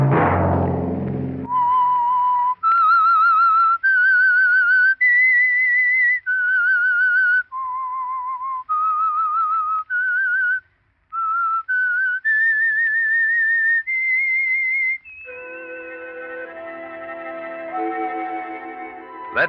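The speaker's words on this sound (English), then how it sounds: "Let that whistle be your signal for the Whistler each Monday at 9." Whistled theme signal of The Whistler radio show, a lone melodic whistle of sustained, clearly pitched notes in a steady phrase, loud and close, ending as orchestral music swells in beneath it.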